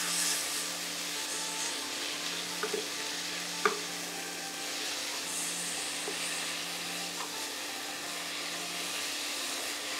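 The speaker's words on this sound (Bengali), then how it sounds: "টমেটো কুচি দিয়ে কষান ততক্ষণ যতক্ষণ না টমেটো গলে যায়।" Chopped tomatoes sautéing in a pan with garlic, a soft continuous sizzle broken by a few faint clicks of a utensil stirring, quiet and close with no talking.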